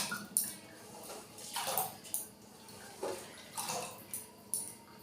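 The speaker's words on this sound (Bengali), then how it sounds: "এখন আমি এটা কুকারটার মধ্যে এই চালে ডালেটা দিচ্ছি" Washed rice and lentils poured and tipped into a pressure cooker, soft wet clatters and scrapes against metal repeating every second or so, faint and close.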